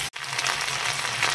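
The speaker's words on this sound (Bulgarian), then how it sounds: "Готовия нарязан картоф го добавяме към зеленчуците, които вече се пържат." Diced potatoes tipped into a pan of vegetables already frying in butter, for a creamy potato soup, give a loud, steady sizzle that runs the whole time after a brief thump at the start.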